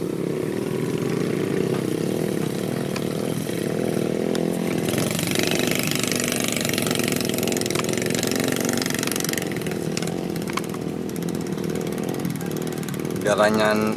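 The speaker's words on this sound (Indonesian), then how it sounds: "Menggunakan motor rakitan bermesin Honda Blade." A small motorbike engine, a custom-built trail bike with a Honda Blade engine, drones steadily and loudly throughout, close by, with its revs shifting slightly over time.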